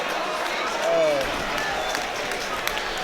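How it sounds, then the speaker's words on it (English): Football crowd at a Walsall match applauding a player, a broad steady wash of clapping and crowd noise with a commentator's voice running over it. "And the Walsall fans are applauding Adebayor for taking that to the corner there."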